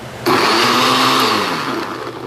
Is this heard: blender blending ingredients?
yes